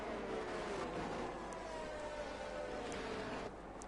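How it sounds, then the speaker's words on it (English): Faint engine drone of race cars circling far off on an Australian circuit under safety-car conditions, a steady distant hum with passing swells, no talk. "You can hear it now, like the cars are far, far away"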